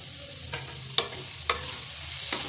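Tomatoes and vegetables fry in a pan for vermicelli upma, a soft steady sizzle broken by a few light stirring scrapes at roughly half-second intervals, close and quiet.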